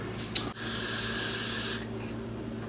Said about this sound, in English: make sure you use the Got glue spray and spray the lace